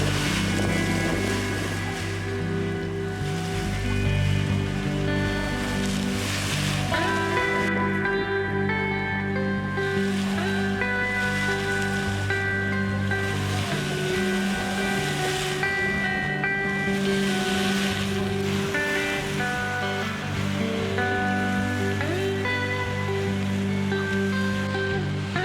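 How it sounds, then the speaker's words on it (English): Grotto Geyser in Yellowstone's Upper Geyser Basin churns actively without erupting, giving a loud, continuous rush of splashing, surging water with a steady low rumble underneath that lasts throughout. "stopping by the Grotto Geyser again. It is much more active right now,"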